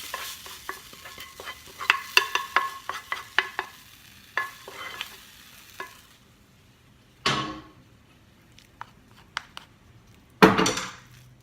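Wonton filling mixture is stir-fried in a pan, heard as a run of sharp, irregular scraping and clacking strokes with a light sizzle beneath, thinning out midway and then giving a few louder isolated clatters.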